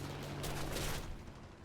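In-game gunfire in an aircraft combat game as a pilot is sniped: a dense, noisy burst of shooting over a steady low engine drone, continuous for under two seconds.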